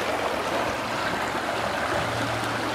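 River water rushes and gurgles steadily around a rock midstream where someone is working a sluice for gold, a close, continuous wash of flowing water with no voices.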